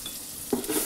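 A knob of butter hits a very hot saucepan and bursts into a short, sharp sizzle about halfway through, after a quiet lead-in, close and fairly soft overall.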